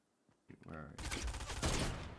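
Video-game gunfire bursts out in a dense, loud rattle of rapid shots that fills the last second and a half, following a few softer noises at the start.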